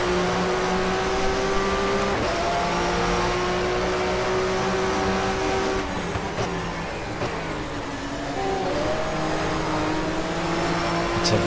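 A touring car from the 1994 German Touring Car Cup round at Diepholz in the racing game GTR2 howls continuously, its engine note rising and dropping through gear changes and corners with a steady loud whine and no talking.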